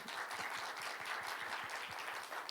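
A church congregation at a youth Sunday worship service applauds together, a steady wash of many hands clapping at moderate distance, even and continuous throughout with no voices standing out.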